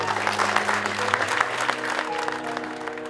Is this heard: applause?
yes